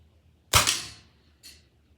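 A .177 air rifle pellet gun fires once at a target with a sharp, loud snap that decays quickly, then a fainter, shorter impact-like click about a second later.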